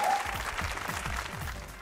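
Audience clapping at a televised show, a steady crackle of applause with a faint voice or music underneath.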